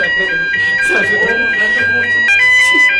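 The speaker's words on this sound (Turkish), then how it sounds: "Ne oluyor lan? Abi yangın alarmı." A fire alarm sounds indoors with a steady high electronic tone that switches on and off in short repeating pulses, while people talk excitedly over it.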